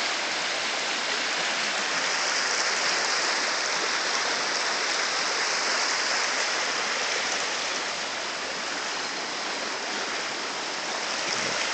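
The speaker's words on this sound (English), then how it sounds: "But it looks kind of like a raging river." A swollen river, running high after rain and snowmelt, rushes past close by in a loud, steady, unbroken roar of churning water with no voices.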